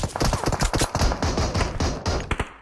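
Rapid automatic gunfire from the mobile game PUBG Mobile, a loud dense stream of shots in bursts with short gaps, ending in a few final single reports.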